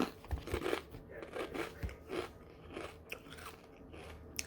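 Kettle Sweet Maui Onion potato chips crunch between the teeth in a series of close, crisp bites and chews, soft but distinct against a quiet room.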